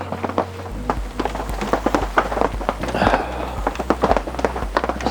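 Rain falling outdoors at a campsite, patter and drops striking surfaces in irregular bursts close by, over a low steady rumble.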